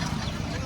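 Chickens cluck and fuss in a brief, dense burst of flock noise at a poultry market in Ahmedpur, close and steady with no clear single call standing out.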